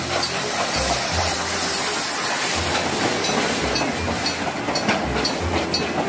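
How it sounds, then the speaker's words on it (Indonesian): Rhythmic clickety-clack of a toy Thomas train running along a track, with low thumps repeating about once a second and a steady hiss, no voices. "Kereta api Thomas"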